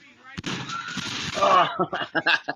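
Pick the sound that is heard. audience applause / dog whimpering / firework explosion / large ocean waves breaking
firework explosion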